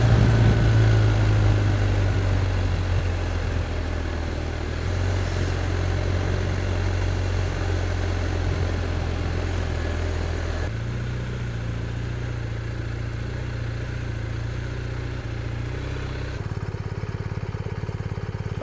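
A 2023 BMW R1250R motorcycle's boxer twin idles at a steady, low, throbbing rumble, close by and alone. The tone shifts slightly partway through.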